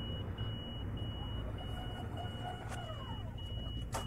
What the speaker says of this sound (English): that beeping that you heard there, no matter where you stand in the carriage